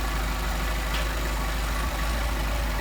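A Mercedes 190SL engine with Solex carburetors idles steadily and close, a continuous even rumble with a broad hiss and no talk.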